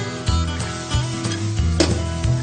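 Samosa filling with red chili being stirred in a pan, a spoon scraping and clanking against the metal in repeated strokes over a steady close sizzle, with no talk.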